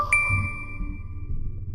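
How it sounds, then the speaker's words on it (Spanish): A phone sounds a single bright chime that rings on and fades slowly, with a low rumble of a moving truck cab underneath and no talking. "seguí conduciendo hasta que sonó mi teléfono"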